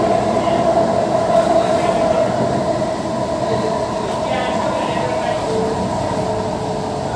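Kolkata East-West Metro train running in its underground tunnel between Sealdah and Sector V, a loud steady rumble and whine from inside the car with faint rail clatter and a voice speaking over it.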